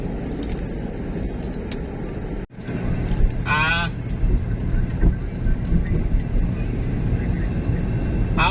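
Road traffic hums steadily on a route between Apalit, Pampanga and Bocaue, Bulacan, a broad, dense drone of passing vehicles that rises after a brief dropout, with a short squeal partway through.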